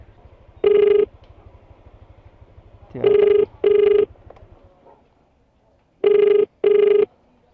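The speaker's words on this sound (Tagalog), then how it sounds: "So try natin tawagan." A phone call to a pickup location rings out on the line in pairs of loud, even electronic ring tones separated by pauses, over a faint low hum that fades away partway through.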